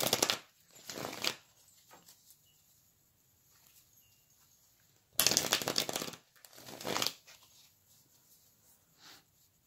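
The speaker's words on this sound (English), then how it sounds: "Let me shuffle and pull some tarot as well." A tarot deck is shuffled by hand in two brisk bursts of riffling and card slaps, one near the start and a longer one midway. Close, quiet pauses fall between them, with no talking.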